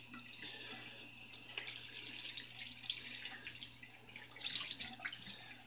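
Tap water runs and splashes in a sink while shaving gear is rinsed, a soft continuous flow with a few louder splashes near the end, close and quiet.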